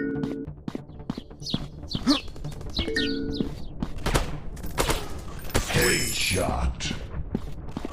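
Gunfire in an FPS shooting video game: sharp single shots and quick bursts close up, mixed with game effects and chirps, with a voice talking over it.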